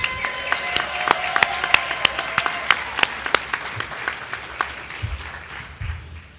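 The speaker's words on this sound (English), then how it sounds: "Let's give all of our panel a round of applause" Audience applause for a panel at a livestreamed community discussion on Black migration, a fairly sparse crowd with a few sharp, distinct claps standing out in a steady rhythm before thinning out near the end.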